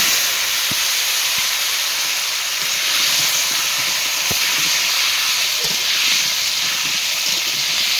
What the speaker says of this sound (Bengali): এবার মাছ ভাজার তেলেই আলুগুলো দিয়ে দেবো